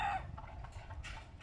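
Chickens cluck in short, broken bursts at a desert farm, fairly close, over a constant low background rumble with no voices.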